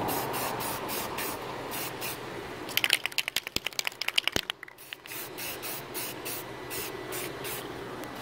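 Aerosol spray paint in flat tan hisses onto a GoPro housing in short, even bursts close by, with a rattling, clicking stretch midway and no one talking.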